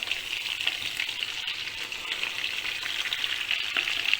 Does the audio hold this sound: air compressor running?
no